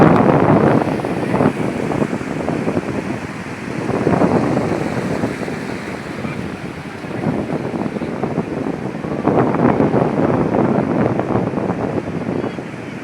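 Sea waves and wind on a beach at Ganpatipule, a steady roar with surges of surf washing in every few seconds, heavy wind buffeting the microphone throughout.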